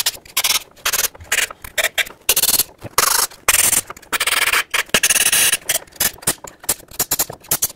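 Compressed air gun blasts out the holes of a Ford F-150 5.4L engine block under a rag, coming as a rapid series of loud, choppy bursts with short gaps between them, close up.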